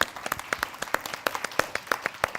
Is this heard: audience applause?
yes